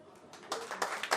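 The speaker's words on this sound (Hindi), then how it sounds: "जोरदार तालियों के साथ स्वागत।" An audience claps in short bursts to welcome a guest onto the stage at a live song launch event, the applause fairly soft and distant, swelling in three quick waves.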